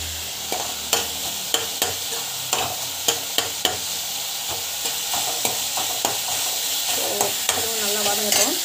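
Bisibele bath ingredients sautéing in a pan, a steady hiss of frying with regular sharp taps and scrapes of a stirring spoon roughly every half second, close and clear with no speech.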